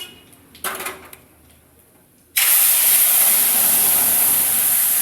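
Ground tomato, cumin, coriander and chili paste tipped into hot oil for raw banana kofta curry: a few quiet clinks, then a sudden loud, sustained sizzling hiss that keeps going, close and steady.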